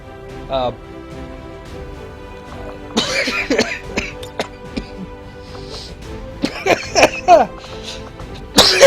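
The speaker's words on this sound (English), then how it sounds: "Excuse me while I have a laughing/coughing fit." A man coughs in repeated bursts mixed with laughter, the coughs spread out over several seconds, loud and close to the microphone, with faint background sound behind them.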